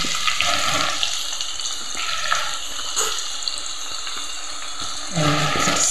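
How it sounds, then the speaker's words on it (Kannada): Jackfruit chips fry in hot oil, a loud, steady, close sizzle and hiss that carries on without a break and swells slightly near the end, with no talking. "ಇದೀಗ ಎಣ್ಣೆ ಚೆನ್ನಾಗಿ ಕುದ್ದು ಅದೆಲ್ಲ ಬೇಯ್ತಾ ಇದೆ."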